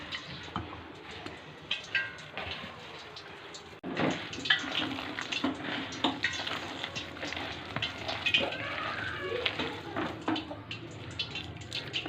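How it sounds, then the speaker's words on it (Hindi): Water is poured bit by bit into pakora batter in a bowl and stirred by hand, giving wet splashing and squelching mixing sounds with clicks, close by and with no talking. "अब मैं थोड़ा थोड़ा पानी ऐड करूँगी और इसको अच्छे से मिक्स कर लूँगी"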